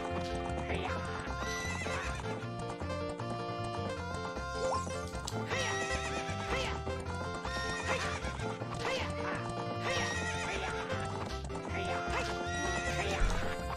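Game horse sounds from The Legend of Zelda: Ocarina of Time, with a horse galloping in clip-clop rhythm and repeated whinnying neighs over dense, loud game music throughout.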